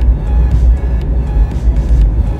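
A Vauxhall Corsa B driving along, heard as a continuous low engine and road rumble with gentle swells, fairly loud and close, with no talking.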